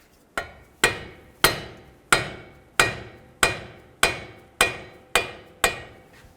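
Ten sharp, evenly spaced metallic blows ring out close and loud, each decaying quickly, as a 24mm wrench is worked to loosen the lower ball joint nut on a 2013-15 Ford Police Interceptor front lower control arm.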